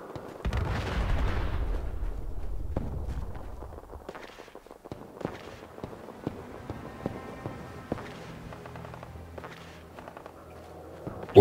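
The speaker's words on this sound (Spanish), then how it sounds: "Se oyen disparos al fondo." Several sharp, distant gunshots crack in the background outside the Boston Public Library in Fallout 4, scattered irregularly over a low rumble and shuffling movement.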